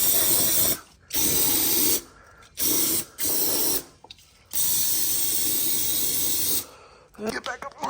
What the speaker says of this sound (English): Gonna give the cam bearings another brake clean bath.